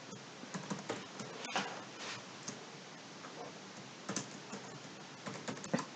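Rapid, irregular clicking of a computer keyboard as someone types, close and fairly quiet, with short pauses between bursts of keystrokes and no talking.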